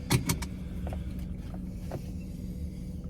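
Steady low road rumble inside a moving car, with a few close clicks and taps near the start and faint light knocks afterward, and no talking.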